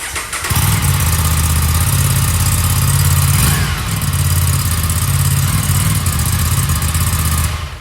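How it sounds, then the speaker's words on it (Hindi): An Aprilia RS 457 sport motorcycle engine starts and settles into a loud, steady idle with a throaty rumble, briefly revving midway before cutting off at the end. "अब इस बाइक की सुनते हैं आवाज़"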